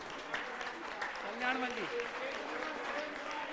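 Applause from an audience at a religious discourse gathering with a Jain monk, a steady broadband patter filling the whole stretch at moderate level, with a voice briefly rising over it.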